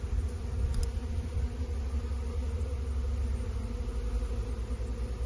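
Honey bees swarm and hum at an open beehive during an inspection, a dense steady buzzing drone that stays close and unbroken throughout, with no voices over it.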